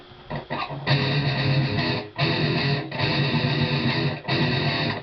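Heavily processed, distorted electric guitar chugs through a Zoom effects processor set for a particular band's tone, loud bursts with brief gaps between phrases, thick and saturated, played alone up close.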